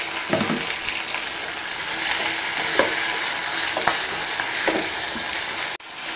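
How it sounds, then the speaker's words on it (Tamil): Tomatoes stirred and sautéed in a pan for vegetable paniyaram chutney, a steady close sizzle and frying hiss with a few distinct clinks of a spoon against the pan, no talking. "இப்போ தக்காளி சேர்த்து நல்லா வதக்கிடலாம்."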